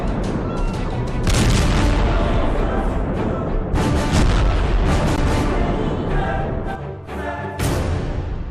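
A leaking gas explosion in a video game bursts into a loud, sustained roar of booming blasts and rumble that fills the scene, dipping briefly near the end before surging again, with no voices.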